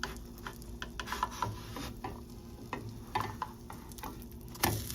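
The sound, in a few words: protein pancake sizzling while being flipped with spatula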